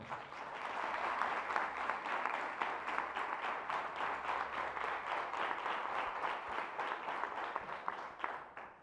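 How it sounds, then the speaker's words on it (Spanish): A church congregation applauds steadily in a sustained, even wash of many hands clapping, moderately loud and continuous for several seconds, with faint voices underneath. "Denle un fuerte aplauso al Señor."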